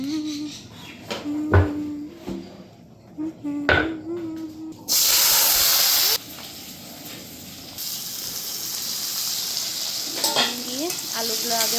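Potatoes frying in a pan give a near, steady sizzle and hiss that swells into a sudden loud burst midway, with a few clinks of a utensil against the pan at the start.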